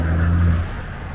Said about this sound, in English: V12 Jag